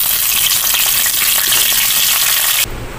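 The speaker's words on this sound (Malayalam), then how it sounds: "അപ്പോൾ നമ്മൾ വെളിച്ചെണ്ണ അടുപ്പത്ത് വെച്ച് കടുക് ഇട്ട് കൊടുക്കുന്നുണ്ട്" Mustard seeds, green chillies and curry leaves sizzle and crackle steadily in hot coconut oil for an Onam sadhya, a loud dense frying hiss that drops to a duller, quieter sizzle near the end.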